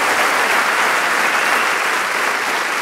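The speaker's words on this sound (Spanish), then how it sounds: "¡Vamos, dale un fuerte, fuerte aplauso al Señor!" A church congregation applauds the Lord with dense, continuous clapping, loud and even throughout the full stretch, with no clear voices above it.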